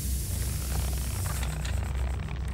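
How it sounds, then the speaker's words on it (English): Spraying in a video game, a continuous hissing spray over a low rumble lasting a couple of seconds, steady and fairly close. "Spray it, spray it, spray it,"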